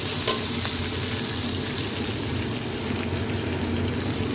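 Onion, chili, capsicum, ginger and garlic fry in a pan while being stirred, a loud, close, steady sizzle with scraping that runs the whole time, with no voices.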